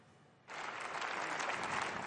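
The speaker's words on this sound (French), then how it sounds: "Des applaudissements nourris et une standing ovation pour François de Rugy au Bundestag allemand ce matin." A packed German Bundestag chamber bursts into sustained, dense applause for François de Rugy, starting suddenly after a half-second of near quiet and holding steady and loud to the end.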